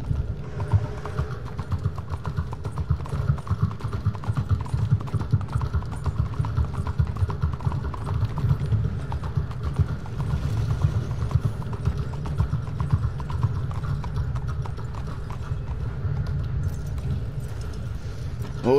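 Horse hooves clip-clop at a steady, rapid trot in the video game Red Dead Redemption 2, a continuous rhythmic beat over soft ambient outdoor noise.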